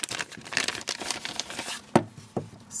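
An Oliver Peoples plastic eyeglasses bag is handled and opened up close, with quiet crinkling and rustling and a couple of sharper crackles near the end.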